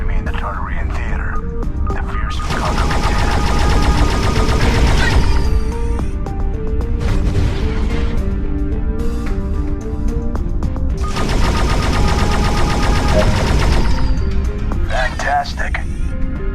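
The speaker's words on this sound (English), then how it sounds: "Pull the primary fire trigger to fire the energy cannons." Rapid automatic bursts of energy-cannon fire from a spaceship in the space combat game End Space, loud and sustained in two long volleys over steady engine and music drone.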